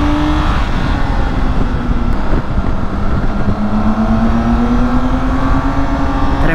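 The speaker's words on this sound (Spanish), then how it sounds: "¡Buah! Cómo tira, ¿eh? Cómo estira también la marcha." A BMW K1600 GT six-cylinder touring motorcycle accelerates on a curvy road, its engine note climbing steadily through a long gear with loud, continuous wind rush over the top.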